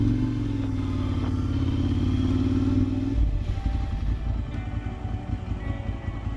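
A Ducati road motorcycle's engine hums steadily while riding, with a smooth, loud drone that shifts into rougher, rumbling texture partway through, as on gravel roads in the Pacific Northwest mountains.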